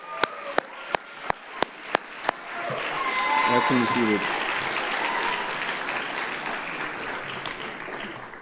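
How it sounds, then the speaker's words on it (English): A school audience gives prefect speakers applause, steady broad clapping that starts after a few sharp isolated claps and continues loud to the end, with a voice speaking briefly near the start. "Can you please give them another round of applause?"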